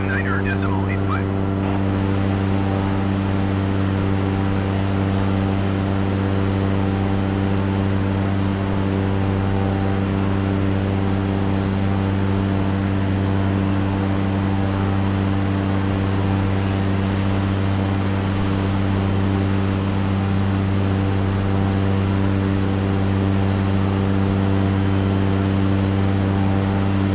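Cessna propeller aircraft engine in flight in a simulator, a loud, steady droning hum with strong low harmonic tones that stays constant throughout.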